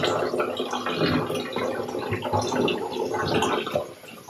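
Water pools and laps around someone sitting in a bathtub, sloshing and splashing close by in an irregular, continuous wash with no talking.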